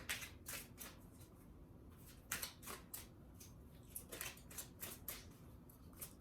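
A tarot card deck being shuffled in quick, faint, papery riffles, burst after burst, close by with no talking.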